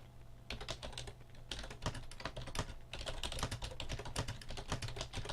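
Steady, close typing on a computer keyboard, rapid irregular key clicks over a low background hum, continuing throughout with no talking.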